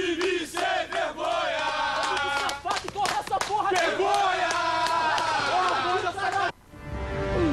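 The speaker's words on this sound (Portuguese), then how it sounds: "Na chegada da delegação ao Rio, a torcida protestou." Fluminense football fans chant and shout in a loud protest as the team delegation arrives in Rio, a dense crowd of voices sustained throughout before cutting off abruptly near the end.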